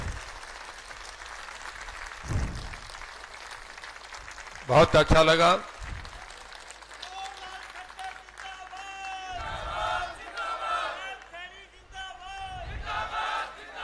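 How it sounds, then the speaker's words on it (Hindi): A standing crowd at a BJP political rally in Hisar, Haryana, bursts into applause and cheering in a loud swell mid-way, with someone speaking over a PA system before and after. "पूरी भारतीय जनता पार्टी का खड़े होकर तालियां बजा के स्वागत करें"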